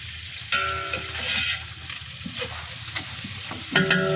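Curry leaves, mint and coriander frying in a pan, with a soft continuous sizzle, occasional ladle scrapes and clinks against the metal, and a sharper burst of stirring at the end.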